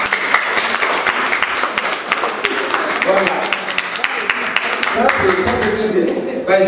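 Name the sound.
audience applauding older brothers and sisters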